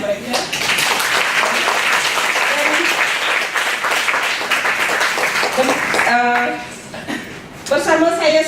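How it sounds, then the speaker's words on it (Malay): An audience claps for members of the Penan indigenous community of Sarawak, dense applause for about six seconds that fades, followed by a brief spoken remark and a short renewed burst of clapping. "tepuk tangan untuk mereka"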